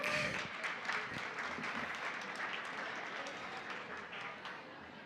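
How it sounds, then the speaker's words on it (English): Live audience applause for a presenter at a community crowdfunding event, a steady wash of clapping with some crowd noise, fairly distant and gradually tapering over a few seconds. "Put your hands together for Mike"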